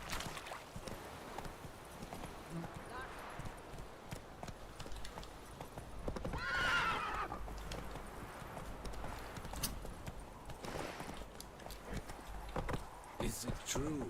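The horse Roach gallops in The Witcher 3, with a continuous soft clip-clop of hooves running under the game's background sounds, fairly faint throughout with a short louder swell in the middle.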